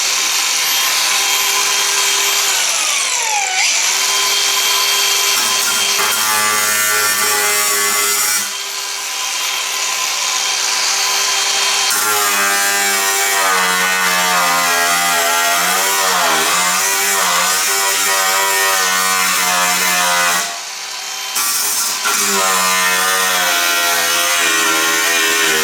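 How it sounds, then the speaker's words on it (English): Angle grinder cutting through a Toyota Corolla rear bumper, a loud continuous high whine that bogs and rises in pitch as the disc bites, with a few brief pauses. "now I really cut this with my angle grinder"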